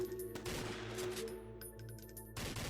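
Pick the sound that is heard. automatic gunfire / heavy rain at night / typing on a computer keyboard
automatic gunfire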